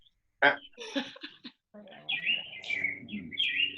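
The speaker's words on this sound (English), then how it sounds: "Oh, those are Benita's birds. He's just hanging out. Loud birds." Bright bird chirps and warbling calls ring out loudly and close, following a short stretch of people talking.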